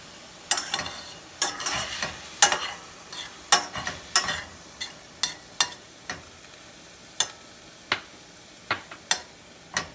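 Seasoned ground meat browning in a pan, a soft background sizzle punctuated by frequent sharp spatula taps and scrapes in an irregular rhythm, close and clear.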